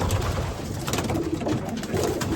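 Racing pigeons coo steadily inside a loft, soft low throaty calls overlapping close by with no talking.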